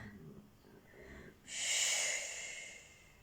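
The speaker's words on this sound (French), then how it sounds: "J'inspire par le nez. J'expire par la bouche." During a yoga class, a person breathes out one long, airy breath through the mouth, loud and close. A softer, quiet inhale comes before it.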